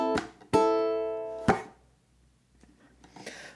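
Ukulele picking the final two bars of St. James Infirmary: three sharp plucked strikes that ring out and decay, then quieter scattered plucks and a brief bright strum near the end, played alone.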